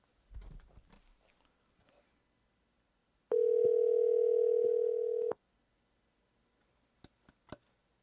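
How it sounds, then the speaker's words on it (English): A single steady electronic telephone tone sounds for about two seconds in a quiet room, with a few faint clicks and rustles before and after. "It's ringing."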